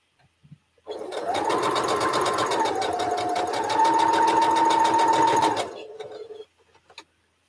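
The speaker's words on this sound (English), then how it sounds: "gotta go back and sew on the side of the line" Quilt blocks are stitched on a sewing machine in one sustained run of rapid whirring lasting several seconds, loud and close, then the motor winds down followed by a few light clicks.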